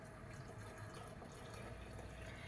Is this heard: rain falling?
no